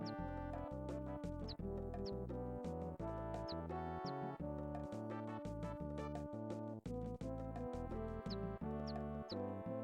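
The chick item in the game EarthBound makes repeated quick chirps in a steady rhythm, bright and clear over looping chiptune music.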